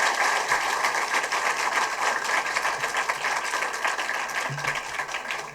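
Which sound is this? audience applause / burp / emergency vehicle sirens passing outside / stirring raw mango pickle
audience applause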